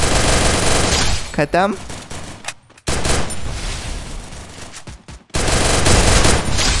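Rapid automatic gunfire from the Free Fire battle royale game, loud bursts of shots filling most of the stretch with a short lull in the middle, while a voice speaks over the game sounds.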